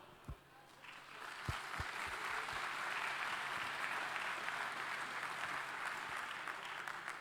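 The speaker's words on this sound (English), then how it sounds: "a big applause for everyone" Applause at a Formula SAE Michigan awards ceremony starts with a few scattered claps, then swells into a broad, steady crowd ovation heard from some distance in a large hall.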